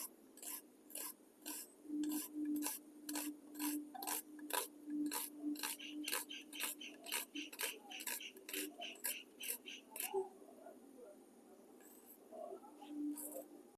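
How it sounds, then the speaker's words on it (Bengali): An onion being chopped with a knife on a board during vegetable prep for a besan dosa, a steady run of sharp, evenly spaced chops up close that slows and thins out toward the end. "এবার আমি পেঁয়াজ কেটে নিচ্ছি"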